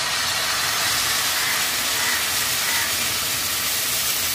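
Steady, loud hissing and sizzling as boiled milk is poured into a hot pan of fried rice while making a Bengali rice dish, continuous broadband noise throughout.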